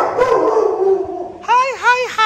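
Therapy dogs trained to work with people with disabilities at a kibbutz in Israel whine and howl in rising, wavering cries, loud and close, after an opening stretch of people talking.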